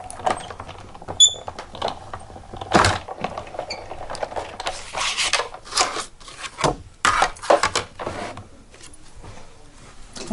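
A card-making die-cutting machine presses a thin die through card, giving irregular crunching, clicking and rubbing bursts with pauses, close and moderately loud.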